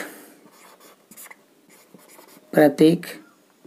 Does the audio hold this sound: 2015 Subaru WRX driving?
no